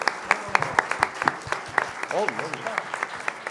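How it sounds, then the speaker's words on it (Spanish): Loud applause from a theatre audience after a recited Borges poem, sharp overlapping claps with some voices mixed in. "Fuerte aplauso."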